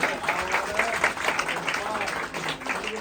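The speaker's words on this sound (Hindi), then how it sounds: "एक बार जोरदार तालियां होनी चाहिए।" A celebration event crowd in Mumbai claps steadily and moderately loud, a dense patter of applause with some voices mixed in.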